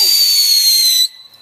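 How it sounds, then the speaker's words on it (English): A firework on New Year's Day, a loud sustained high hiss or whistle that cuts off abruptly after about a second, leaving a faint fading tone. "there's a firework right here"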